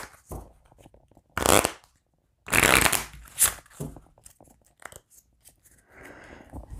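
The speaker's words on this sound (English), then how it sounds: "we're going to shuffle our discard pile up real quick" Someone shuffles a discard pile of cards from the tabletop game Rescuing Robin Hood, making several separate bursts of riffling and flicking with quiet gaps between them.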